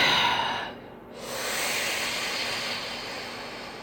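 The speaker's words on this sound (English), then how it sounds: "Right now, we're going to take a nice deep breath in." A long, deep breath is drawn in and slowly let out, close and breathy with a brief pause in between, during a guided relaxation exercise; no speech is heard.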